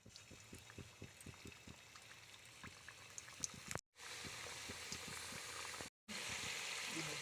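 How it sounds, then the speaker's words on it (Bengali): Pitha cakes fry in hot oil in a wok, a constant bubbling sizzle broken by soft pops and brief clicks, quiet and close, with a couple of short gaps. "তেল গরম হয়ে গেছে, এবার পিঠাগুলো দিয়ে দেব।"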